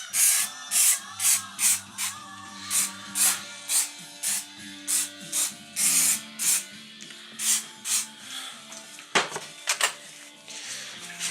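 Short bursts of cleaner spray hit a track bike engine in a farmyard, a dozen or so quick hissing squirts in an uneven rhythm, close and fairly quiet.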